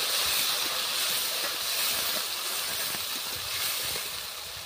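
Cut potatoes hit hot oil seasoned with nigella and radhuni seeds, giving a loud, continuous close-up sizzling hiss that holds steady and eases slightly toward the end.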